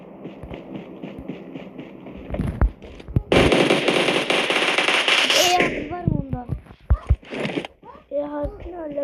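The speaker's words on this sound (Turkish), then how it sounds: "Bir bomba saladım" A bomb blast bursts in an online video game, a loud sustained crackling roar lasting about two seconds, surrounded by game sounds and a player talking.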